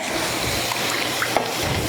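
Brown sugar water poured into a hot pan with garlic during cooking, a loud continuous sizzling splash from start to finish with no talking over it.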